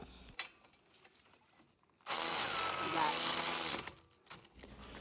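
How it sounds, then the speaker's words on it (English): A 19mm socket tightens the caliper bracket on a Fiat 500 Abarth during a brake pad and rotor job, giving a loud, steady, continuous whirring of about two seconds from what seems to be a power tool, with faint scraping before and after. "we can go ahead and replace the caliper bracket using our 19mm socket"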